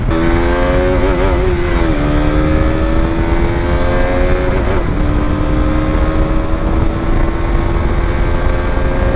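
A KTM RC 200 single-cylinder motorcycle roars steadily on a racetrack, its loud, close engine note holding high with slight dips and rises in pitch as the throttle shifts.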